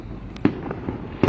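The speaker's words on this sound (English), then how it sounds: "why are we shooting fireworks for their independence?" Fourth of July fireworks go off as a few sharp bangs and crackles, one near the start and one at the end, set against low background rumble.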